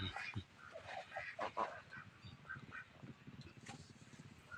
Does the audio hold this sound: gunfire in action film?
no